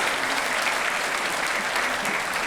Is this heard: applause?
yes